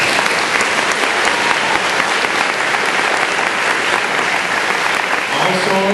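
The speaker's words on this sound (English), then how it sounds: "so please give them a round of applause" A large crowd applauds steadily at a high school commencement ceremony, dense clapping sustained throughout at an even, loud level, with a voice emerging briefly near the end.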